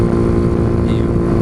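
Kawasaki Z125 motorcycle with the baffle fitted in its exhaust, running at a steady, loud, close-up idle with a deep, even throb throughout.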